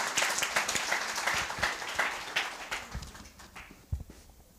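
An audience at a business pitching challenge and expo claps for a presenter, the applause dense at first and thinning out as it fades, with a few stray claps near the end.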